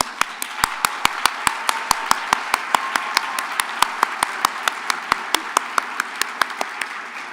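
At a university teacher education convocation, a small audience claps in a steady, evenly spaced rhythm, each crisp clap distinct over a faint background hum.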